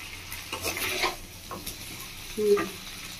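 Chicken pieces frying in a kadai during a Bengali-style desi chicken kasa, with a soft sizzle under scattered stirring scrapes and a clink of utensil against the pan, no talking.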